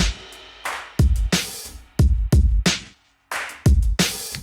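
An orchestral hip-hop beat on a vintage-style kit: punchy kicks and snappy snares in a steady groove with crisp acoustic cymbal and hi-hat hits and layered claps, dry and upfront with short gaps between hits.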